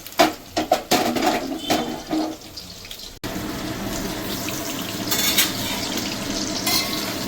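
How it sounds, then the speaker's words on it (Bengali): Chicken pakoras for chilli chicken deep-fry in hot oil with a steady sizzle, first broken by stirring clatter, then a continuous bubbling hiss that swells near the end. "পকোড়াটা আমি ভালো করে ভেজে নেব।"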